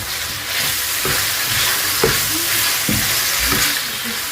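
Onions frying in a pan and being stirred, a steady bright sizzle running throughout with several soft scraping and clinking stir strokes at irregular intervals, close and moderately loud, no talk.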